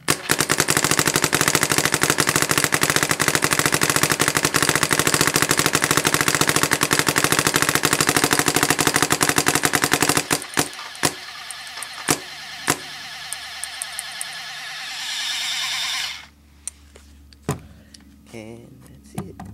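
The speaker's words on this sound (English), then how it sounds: "I'm gonna shoot it a tree to let you see how fast it is. Shooting 15 balls per second" A PSP paintball marker fires at about 15 balls per second at a tree, a loud, fast continuous burst lasting around ten seconds, followed by scattered single shots and mechanical clicks.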